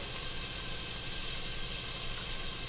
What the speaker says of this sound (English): Sauteing onions.